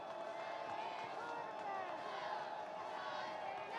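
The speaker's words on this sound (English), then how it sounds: "Dragon faithful trying to cheer on that defense" Dragon fans cheer on their defense at a Division II college football game between Hillsdale and Tiffin, with a steady crowd roar that holds at an even level throughout, broad and distant like a full stadium.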